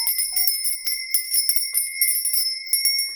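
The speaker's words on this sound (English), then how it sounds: "Please turn down your volumes if you do not like the sound of bells." Small bells ring in quick irregular strikes, bright metallic tones with long shimmering overtones that overlap and sustain, close and fairly loud with no voices.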